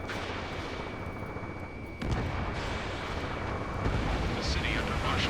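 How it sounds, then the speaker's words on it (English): In the video game Ace Combat 7, gunfire and jet roar fill a city under martial law, a dense rumbling barrage that swells louder partway through, with sharper bursts standing out from the continuous wash. "Gunfire and the roar of jets echoing through the streets."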